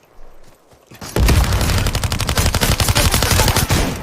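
An MP5 submachine gun in the game Super People fires a loud, sustained automatic burst of rapid, evenly spaced shots. The burst follows a quieter second of background sound.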